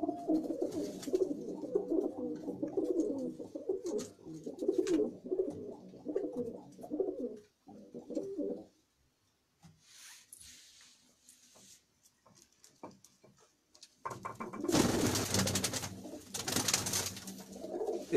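Domestic pigeons on a low rooftop coo in soft, low bursts through the first half, then go quiet before a louder, dense stretch of rustling and calls near the end.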